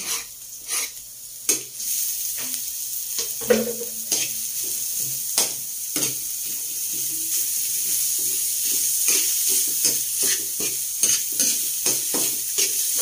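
Garlic and onion sauté in hot oil with ginger in a pan, a soft steady sizzle under repeated sharp scrapes and clinks of a utensil stirring against the pan.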